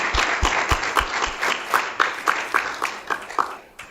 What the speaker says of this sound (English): let's give one more round of applause for a great talk